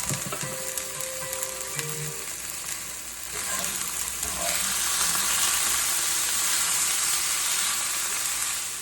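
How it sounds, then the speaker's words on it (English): Broccoli and bacon sizzle and steam steadily in a skillet, a loud continuous frying hiss that swells toward the end, with faint stirring clatter early on. "You can steam the vegetables and the bacon for a while."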